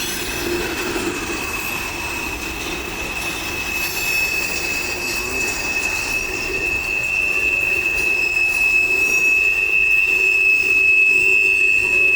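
A freight train rolls past near Winston Wye in Lakeland, Florida, its wheels letting out a sustained high metallic squeal over a steady rumble that grows slightly louder toward the end.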